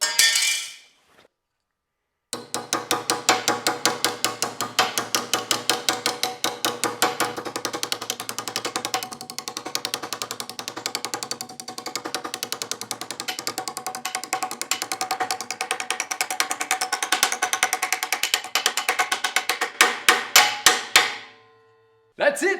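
A hammer beats aluminum sheet clamped over angle iron to bend it. Rapid, evenly spaced metallic taps run for about twenty seconds, loud and close, then stop abruptly.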